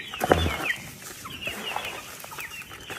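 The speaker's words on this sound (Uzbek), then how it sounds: "1 oylik, 20 kunlik, 2 oylik, 3 oylik jo'jalar bor bu yerda" Chickens and young chicks of various ages, from twenty days to three months old, cluck and peep close by in a busy, overlapping chorus, with a few louder calls near the start.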